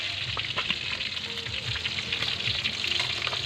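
Fish fries in hot oil in a pan, a dense continuous sizzle and crackle with small pops and occasional stirring scrapes, close up and alone.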